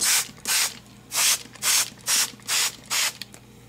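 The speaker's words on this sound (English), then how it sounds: "get your spray bottle and just mist it really well" A spray bottle pumps out seven quick mists of water over mustard microgreens in a steady rhythm, each a short hissing burst with a brief gap between, close and fairly loud.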